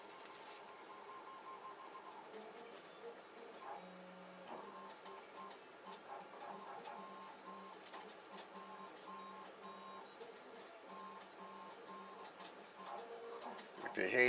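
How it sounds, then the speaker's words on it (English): A steady mechanical hum and whir of a 3D printer runs throughout, with faint ticking and stepping tones, fairly quiet and constant. "If you hear any noise, it's my 3D printer going in the background."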